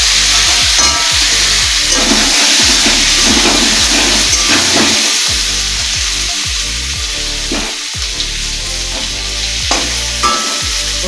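Potatoes frying in hot oil with turmeric and salt for a Bengali-style chicken curry give a loud, continuous close sizzle, broken by repeated scraping stirs and spatters throughout.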